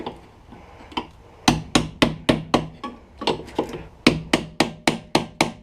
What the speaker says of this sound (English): Small chisel or punch will usually get it from the other side